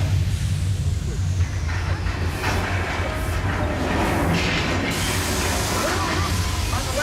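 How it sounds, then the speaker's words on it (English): A low, steady rumble with hissing and rattling like a tram shaking along rails during a simulated earthquake on the Universal Studios tram tour, continuous and fairly loud, with a voice briefly in the mix. "That's an earthquake."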